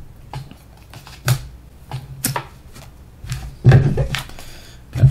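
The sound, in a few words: shuffling cards for Harry Potter Hogwarts Battle board game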